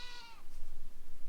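Sheep bleating once, close and fairly loud, a short wavering call near a parked overland truck camper, followed by low outdoor rumble.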